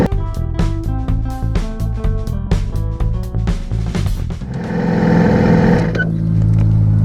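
A Yamaha R6 motorcycle engine runs close by with a throbbing, pulsing idle, then settles into a louder steady hum with a broad whooshing layer.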